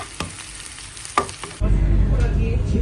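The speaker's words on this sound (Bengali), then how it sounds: "এখন পেঁয়াজি করবো, যেটা আমি পেঁয়াজটা এখানে ভাজতে নিতেছি" Onions frying in a home kitchen pan, a few light stirring clicks and scrapes at first, then a loud, steady, broadband sizzle that bursts in and holds close to the end, with no talk.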